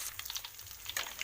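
Onions frying in a pan with ginger-garlic paste make a faint, crackly sizzle with quick spitting pops and a brief louder burst near the end.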